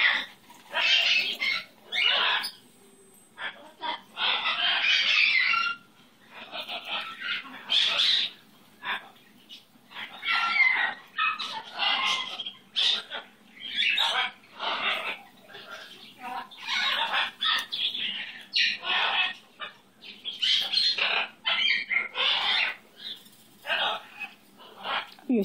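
Gonzo, a pet bird, gives a long series of raspy squawks and chattering calls in irregular bursts, close and fairly loud, with short pauses between them.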